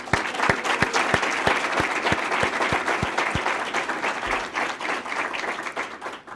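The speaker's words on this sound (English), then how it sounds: "she deserves a round of applause for her work." An audience applauds steadily after a speaker asks for a round of applause at a standardized patient center event, with dense continuous clapping and a few sharp individual claps standing out near the start.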